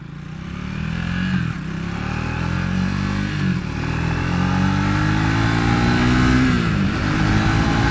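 Triumph Scrambler 400x motorcycle engine revving steadily and loudly at close range, its pitch climbing gradually across the run with a brief dip midway and a slightly buzzy tone.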